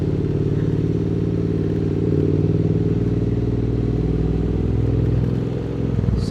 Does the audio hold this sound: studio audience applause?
no